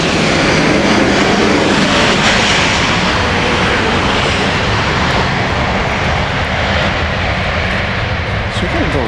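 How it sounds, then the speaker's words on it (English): A Boeing 757 airliner at Dallas Love Field on a rainy morning roars past with a broad, sustained jet engine rumble that stays loud throughout, with voices talking over it. "There's a plane coming in, but I'm just fascinated with the 757."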